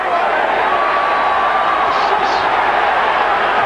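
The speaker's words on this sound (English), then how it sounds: "And listen to the crowd now." The crowd at a boxing match between Paul Spadafora and Leonard Dorin makes a sustained, loud arena roar, with a commentator's voice layered over the steady murmur.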